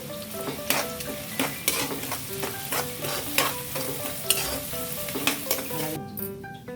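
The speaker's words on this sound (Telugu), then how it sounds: "బ్రౌన్ అండ్ కలర్ వచ్చేదాకా ఆనియన్స్ని ఫ్రై చేసుకోవాలి." Onions fry in hot oil for an Andhra-style prawn fry, with a loud, continuous close sizzle and crackle broken by regular scraping and clinking strokes of a stirring spoon.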